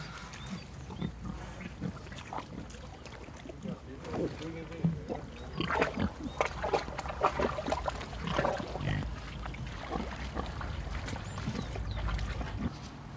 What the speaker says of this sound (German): Im Herbst lässt Johann Leitner die Schweine in sein Topinambur-Feld